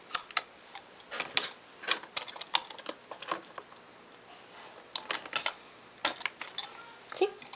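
An X-Acto knife cuts a piece out of a plastic eyelash and nail art storage case, giving close, sharp, irregular clicks and snaps in scattered clusters.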